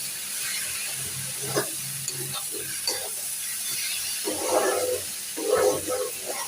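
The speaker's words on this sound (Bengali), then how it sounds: "লাউটা ভাজি করছি" Bottle gourd stir-fries in a pan at home, with a continuous sizzle and intermittent scraping and stirring sounds that swell toward the end.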